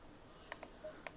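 Faint, sparse clicks of a Bluetooth keyboard being typed on, a handful of soft separate taps over a low background hum, with no voice.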